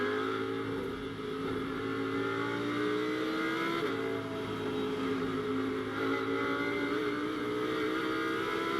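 Onboard a Lamborghini GT race car during night qualifying at the 24 Hours of Spa, its engine note rising and falling steadily as the driver goes on and off the throttle, loud and close throughout with no talk.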